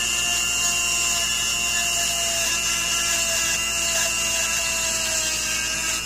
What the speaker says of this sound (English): take our tool here and we'll power it up. And we're just going to scrub across this thing to